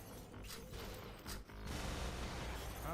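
Rapid Uzi submachine gun fire in a video game, dense bursts of mechanical clatter and shots filling the moment, loud and close with no talking over it.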